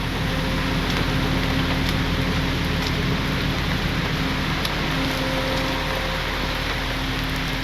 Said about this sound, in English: This is a cold rain.